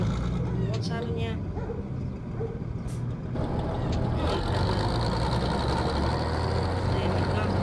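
A Bizon combine harvester's engine starts up in the field, a heavy diesel rumble that steps up in level partway through and keeps running loudly and steadily, with broadband mechanical noise close by.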